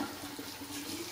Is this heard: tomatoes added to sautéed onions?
no